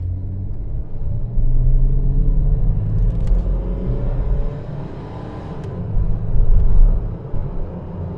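A Ford Granada Mk2 2.8 Ghia accelerating up to 60 mph on the road gives a loud, steady low engine rumble that swells and pulls harder toward the end, with no talking.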